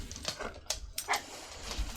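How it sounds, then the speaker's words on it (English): A dog huffing and snuffling in Baldur's Gate 3, a few short breathy puffs and faint whimpers, close and quiet over a low game ambience. "Oh, Mr. Puppy, you're a huffy boy."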